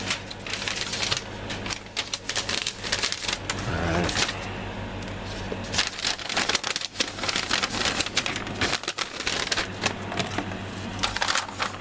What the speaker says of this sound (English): So, put some paper here. Lots of paper.